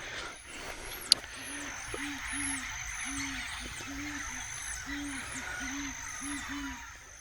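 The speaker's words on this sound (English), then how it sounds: "I don't know if you can hear that, but there's some kind of bird." A bird in a Guyana jungle calls over and over in a repeating pattern of short hooting notes, with higher chirping calls above and a steady insect-like hum all around.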